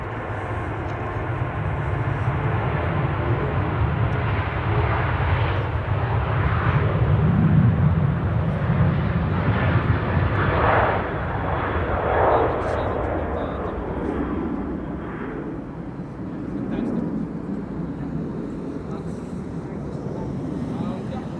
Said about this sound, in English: KLM on Cheater's Lane, 737-900.